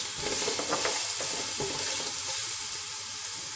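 Green chilies and onions sizzle steadily in a hot pan for vegetable biryani, with a few soft stirring scrapes over a constant bright frying hiss, close and moderately loud, no voices.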